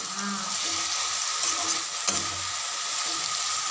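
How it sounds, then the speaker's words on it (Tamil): Onions and curry leaves sauté in a pan, giving a steady, close sizzle with soft stirring clinks and scrapes throughout, no voices. "இந்த கருவேப்பிலை சேர்த்து நல்லா வதக்கிடலாம்"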